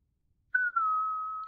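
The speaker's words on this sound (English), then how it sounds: "Keep whistling" A person whistles one long, steady, clear note in VR Chat, starting after a brief silence, with a short break near the start, heard close and alone.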